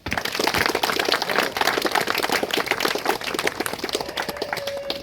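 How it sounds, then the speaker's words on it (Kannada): Loud applause at a Kargil war memorial tribute event, a dense continuous patter of many clapping hands heard close for the whole stretch. "ಜೋರಾಗಿ ಚಪ್ಪಾಳೆ."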